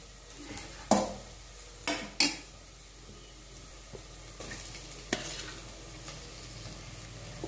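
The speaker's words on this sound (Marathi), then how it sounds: "मॅरिनेट केलेले मासे कांद्यावर परतून घ्यायचे आहेत।" Marinated pomfret fish is stir-fried on onions in a pan, with a soft sizzle under several sharp spatula clacks and scrapes spaced a second or so apart, close and with no speech.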